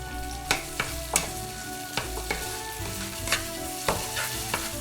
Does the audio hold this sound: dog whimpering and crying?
no